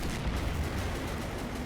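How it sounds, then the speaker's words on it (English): Artillery fire and explosions rumble without pause in a Men of War battle at Narva, a World War II Soviet assault on German 88 guns, forming a dense, loud wall of booms and gunfire. "All the explosions. You gotta love explosions."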